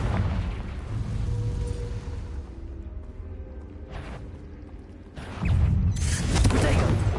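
A Confringo fire spell bursts in Hogwarts Legacy, a heavy low boom erupting late after a stretch of quieter magical combat noise and music.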